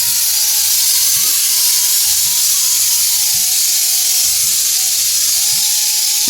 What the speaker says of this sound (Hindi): यहाँ पर छोले भी हमारे बस उबलने ही वाले हैं